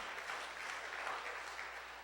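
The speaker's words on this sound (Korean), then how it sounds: "더 큰 박수, 위로의 박수." A congregation at a church education seminar gives a round of applause, a soft, distant-sounding wash of steady clapping lasting about two seconds.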